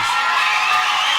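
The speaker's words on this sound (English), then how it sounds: "Ladies and gentlemen, with a round of applause," A crowd cheering and whooping for the winner of a children's literacy quiz competition in Ghana, a dense, loud, steady roar of voices and applause filling the whole moment.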